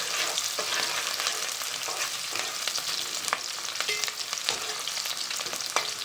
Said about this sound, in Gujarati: જોઈ શકો છો 1 કરી ડુંગળી લીધી છે આપણે. સરસ ડુંગળી એડ કરી દીધી.